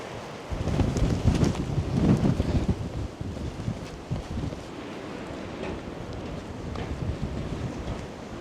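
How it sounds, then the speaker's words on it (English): Strong gusty wind at the coast roaring across the microphone, with surf and water noise beneath, loud buffeting bursts easing into a steadier rushing. "It's so windy today."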